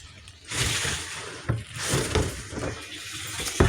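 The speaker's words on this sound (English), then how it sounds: "the water fills up in the tank there" Town water running into a home water tank, a continuous hissing gush that surges and eases with a few knocks, nearby and without speech.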